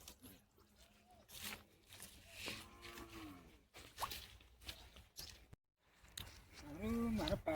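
A buffalo calf moos in short, drawn-out calls near a village cattle trade, mixed with people talking and a few brisk swishing sounds.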